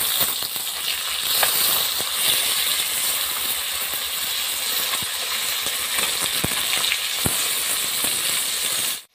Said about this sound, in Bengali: এবার মাছগুলো একটু আমি উল্টে পাল্টে ভালো করে ভেজে নেব।